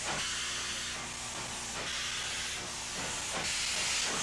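A steam locomotive, roughly a century old, gives off a continuous loud broadband hiss of escaping steam that swells and eases in a few soft surges, with no voices.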